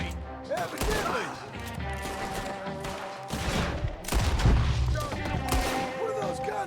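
Gunfire crackles through a shootout in Red Dead Redemption 2. Repeated shots, some in rapid volleys, come over a busy game soundscape with a heavy boom near the middle.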